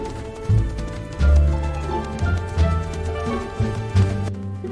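Horse and donkey walking, their hooves clip-clopping in an uneven rhythm of several soft, close thumps over a steady background, with no voices.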